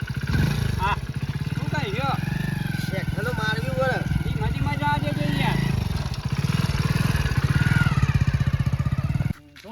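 A motorcycle engine runs steadily and loudly throughout, with people talking over it, until the sound drops off abruptly just before the end.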